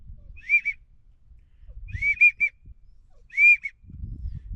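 Three short, bright whistled calls from a widgeon duck whistle, evenly spaced and fairly close, each with a quick rising-and-falling trill, with light handling rumble between them.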